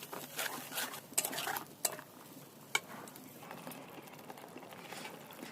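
Tomato and nut paste being stir-fried in a pan, heard as soft scraping and stirring with a few sharp clinks of a utensil against the pan early on, then a quieter, steady background.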